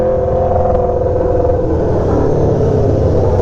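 An Aprilia Tuono V4 motorcycle on its first ride gives a loud steady engine drone and rumble with wind roar, heard close up throughout and with no speech.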